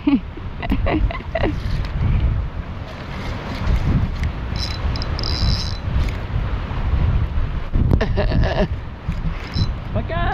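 Strong wind buffets the microphone in a continuous low roar on the Gaspésie coast in Québec, with brief voices speaking over it now and then.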